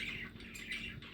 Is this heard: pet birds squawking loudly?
yes